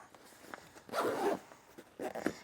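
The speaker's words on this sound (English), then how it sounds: "I just put the harness on top of all of the things, and now I can zip it all up." Kelty Redwing Traveler backpack being zipped closed, with two distinct zipping pulls, a longer rasping one followed by a shorter one, heard up close in a quiet room.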